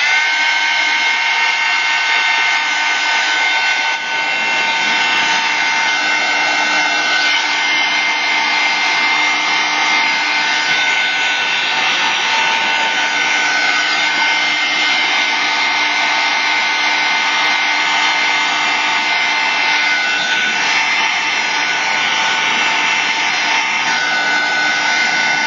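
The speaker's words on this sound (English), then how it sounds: "let's see if I can speed it up by drying with the heat tool" Heat tool blowing hot air to dry thick paint on a paintbrush being turned into a birdhouse, a loud, steady fan roar that holds unbroken throughout.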